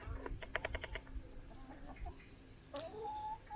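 A large, protective cockerel clucks in a quick burst of several short calls near the start, followed later by a brief rising squawk, heard close up with no talking.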